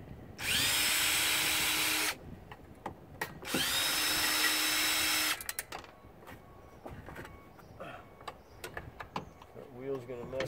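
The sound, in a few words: power drill removing screws from electric snow thrower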